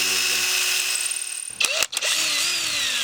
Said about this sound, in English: it could split easily, so you're better off to pre-drill with a bit slightly smaller than,